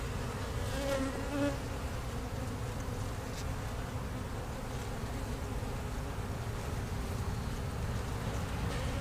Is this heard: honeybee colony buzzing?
yes